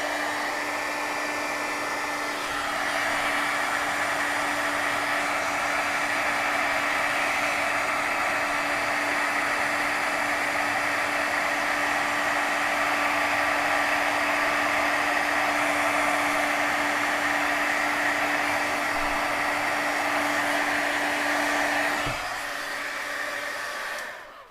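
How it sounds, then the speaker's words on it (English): A craft heat tool blasts steadily to heat-set embossing glaze on a vintage steampunk card, a loud, even whirring hiss holding for about twenty seconds before cutting off near the end. "let's go ahead and heat set our embossing glaze"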